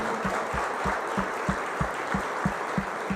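A church congregation applauds in a steady, wash-like roar, with a regular low thumping pulse running beneath it at a brisk, even beat.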